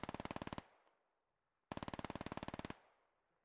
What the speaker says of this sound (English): Those MG3s are just terrifying to hear.